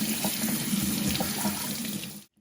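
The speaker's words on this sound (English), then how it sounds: "So you just run some very cold water over it." Cold tap water runs steadily from a faucet over canned saltfish in a strainer, a close, continuous splashing rush that lasts about two seconds before cutting off abruptly.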